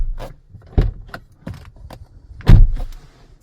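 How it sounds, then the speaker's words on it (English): Door lock actuator on a first-generation MG ZS EV firing in a few short, sharp mechanical clunks and whirs, the loudest near the end, close-up with quiet pauses between them. "And the door still unlocks."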